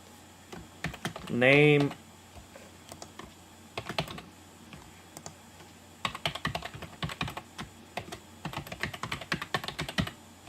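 Quick bursts of typing on a computer keyboard entering a name during a Magento installation, clustered keystrokes in short runs, close and clear, with a brief spoken word early on.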